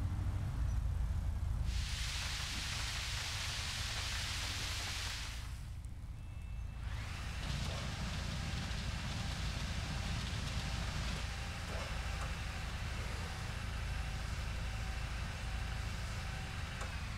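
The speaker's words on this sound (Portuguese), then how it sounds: "Vamos passar no Lava Jato, mano." Car wash water sprays over a 2010 Toyota Corolla XEI in GTA V, a hissing rain-like spray that bursts loudly for a few seconds, pauses, then continues as a steadier patter over a low engine hum.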